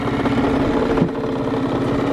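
A small engine runs steadily at a mid pitch, close and fairly loud, with a brief dip and surge about halfway as it is put in gear and pulls away.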